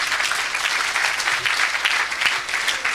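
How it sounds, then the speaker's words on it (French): Church congregation applauding for Jesus during a French-language sermon, dense continuous clapping from a crowd, loud and sustained throughout. "Acclame pour Jésus."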